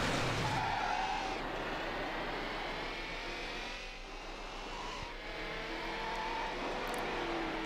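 Lamborghini Murcielago engine in the racing game Need for Speed Hot Pursuit 2, a steady loud drone with continuous revving that barely changes across the whole stretch, alone without talk.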